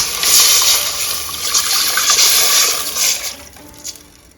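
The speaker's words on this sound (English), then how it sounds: "To this she's going to add the water." Water pours from a container into a soup pot for Armenian mante, a close, bright gushing splash that runs steadily for a few seconds before tapering off.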